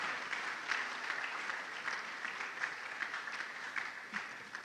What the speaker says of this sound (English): a round of applause for Professor Mrs.